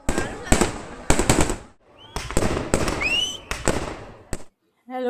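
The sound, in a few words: fireworks bursting at night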